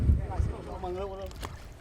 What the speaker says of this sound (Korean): 제가 타고 온 배가 너무 커서 숲 사이를 지나다닐 수 있는 작은 모터보트로 갈아탔습니다